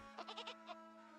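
A sheep in a video game lets out a quick series of bright, wavering bleats, four rapid pulses then one more after a short gap, faint and heard alone over a steady tonal background.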